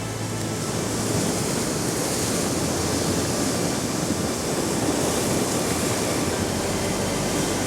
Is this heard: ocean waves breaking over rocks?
yes